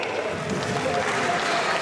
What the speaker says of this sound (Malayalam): കൈയടിക്കൂ കേക്കട്ടെ